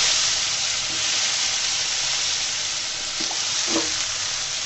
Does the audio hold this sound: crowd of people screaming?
no